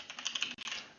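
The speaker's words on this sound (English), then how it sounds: "within there I've typed outer space" Keys clatter on a computer keyboard as a font search is typed, a quick burst of close, light clicks over about a second with a brief pause midway.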